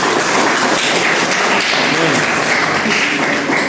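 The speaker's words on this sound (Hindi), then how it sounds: "अब तक की सबसे जोरदार तालियां हो जानी चाहिए हृदय के लिए" A room of people at a seminar or council session bursts into loud, continuous applause, a dense, even wash of clapping that holds steady throughout.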